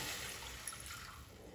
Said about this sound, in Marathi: नंतर याच्यामध्ये आपण पाणी घालून घ्यायचं आहे।